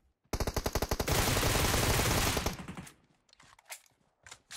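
Gunfire in the mobile battle-royale game PUBG Mobile: a rapid burst of automatic shots opens into a dense, loud sustained volley, then trails off into scattered lighter clicks and thuds.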